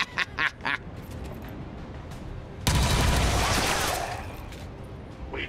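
Enemy gunfire in the game XCOM 2: War of the Chosen, a sudden loud burst of shots that rings out and fades over about a second, after a few short clipped sounds.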